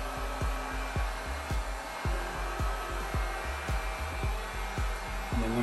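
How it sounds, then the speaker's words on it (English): A heat gun blows hot air over acrylic pour paint with a continuous, loud rushing hiss and soft rhythmic low pulses underneath, steady and close, with no talking. "Heat gun"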